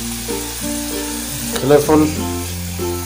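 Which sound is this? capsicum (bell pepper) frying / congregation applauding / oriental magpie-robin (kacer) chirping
capsicum (bell pepper) frying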